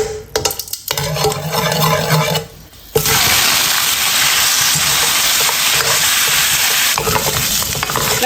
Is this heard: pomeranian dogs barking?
no